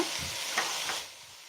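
Spices crackle and sizzle in a couple of spoons of hot oil, tempering for an amaranth stem saaru, a brief steady hiss with a light stir that fades out.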